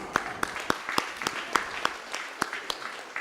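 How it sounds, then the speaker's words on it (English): At a university Vice-Chancellor's distinguished awards ceremony, an audience gives a round of applause: steady, rhythmic clapping with sharp, evenly spaced claps over a soft bed of scattered hand claps, moderately loud throughout. "Round of applause."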